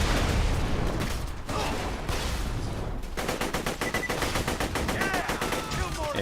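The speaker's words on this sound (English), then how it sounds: "And finish up with the assault rifle." Assault rifle fire in Borderlands 2, continuous loud rapid bursts that settle into a steady, evenly spaced stream of shots over dense game combat noise.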